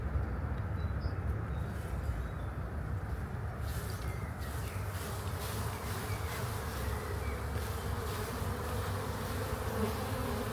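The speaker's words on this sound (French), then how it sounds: "Il y a plein d'abeilles, il doit être coincé là-dessous." Many bees buzzing in a dense, continuous swarm drone, fairly faint but steady throughout, with no talk.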